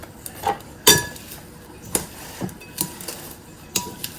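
Coleslaw seasoned with salt and pepper is stirred in a bowl, giving scattered clinks and knocks of utensil against dish at an irregular pace, with a sharper clatter near the start.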